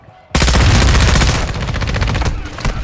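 Dense, loud gunfire rattles from a multiplayer shooter match on the Ashika map, a sudden sustained burst of rapid shots after a quiet moment that keeps pounding for nearly three seconds.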